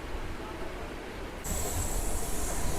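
A MEMU train pulls away from Marripalem, a low steady rumble that swells suddenly partway through as a thin, high wheel squeal rises above it.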